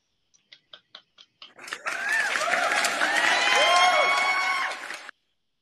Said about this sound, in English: Now let's give a round of applause to all of our presenters.